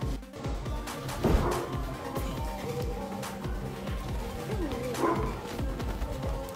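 A dog barks and yips repeatedly amid a busy, noisy background, the barks coming in quick bursts at moderate loudness.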